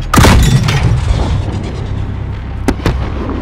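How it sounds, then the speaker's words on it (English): Illumination flare rounds launch in a Call of Duty battle at an embassy in Urzikstan, with a heavy booming blast followed by a rumbling tail and two sharp cracks shortly after. "Launch a flare. We'll pick them off in the light. Illumination rounds."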